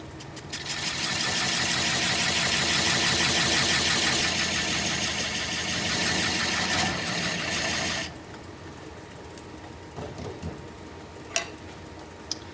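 A wood lathe spins a large end-grain workpiece with a loud steady whirring hum for about eight seconds, then winds down sharply to a quiet background with a few scattered clicks and knocks.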